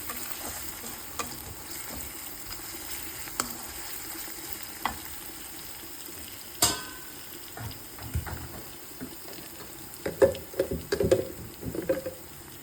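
Garlic paste frying in oil, a soft steady sizzle with occasional louder scraping and stirring clatters toward the end, no voices.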